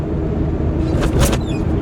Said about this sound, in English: back in the truck and we are on the road this morning.